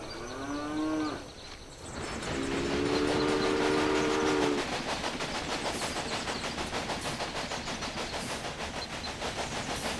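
A steam locomotive in the Railway Empire game sounds two harmonic whistle blasts, then chugs along the rails with a steady, rhythmic clatter that continues to the end.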